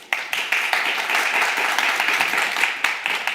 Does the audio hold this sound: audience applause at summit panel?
yes